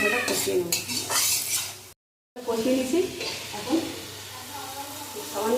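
Spice paste for a giant freshwater prawn (golda chingri) curry is stirred and fried in a pan, with steady sizzling and scraping strokes running throughout, broken by a short silent gap.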